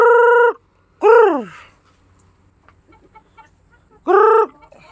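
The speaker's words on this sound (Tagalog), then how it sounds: "napakalaking manok yan" A large Basilan-type chicken on a farm gives three loud, harmonic clucking calls, spaced apart with quiet farmyard background between them.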